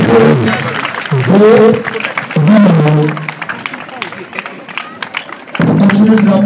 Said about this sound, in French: On applaudit très fort le général de la commission universitaire